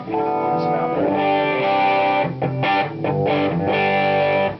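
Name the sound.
electric guitar through low-gain distortion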